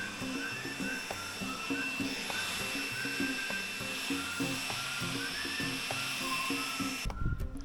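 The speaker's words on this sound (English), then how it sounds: "Let's get started with the leaf blower." A leaf blower runs with a steady, loud mechanical whine and high droning tone, then cuts off near the end, leaving a brief rustle.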